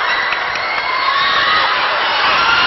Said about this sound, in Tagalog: this crowd just enjoying the game. Cheering, in fact, both teams